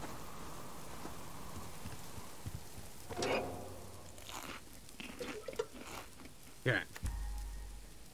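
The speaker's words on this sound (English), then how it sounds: "God dang rain, get away." Faint, steady rain hisses in the survival game Subsistence, with occasional louder crunching and rustling sounds breaking through the soft background patter.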